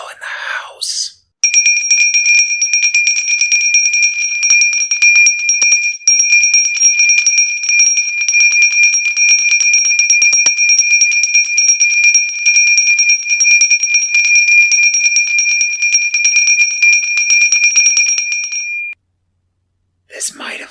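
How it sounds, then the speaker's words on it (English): A bell rings loudly and continuously as a sound effect in a reading of Dickens' A Christmas Carol, with steady bright trilling that holds for about seventeen seconds and then stops, with brief speech at either end. "soon it rang out loudly, and so did every other bell in the house"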